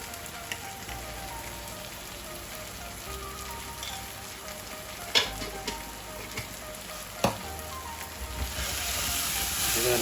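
Spices and prawn masala fry in a pan for prawn thokku, giving a low continuous sizzle with a couple of sharp stirring knocks, and the frying swells louder near the end.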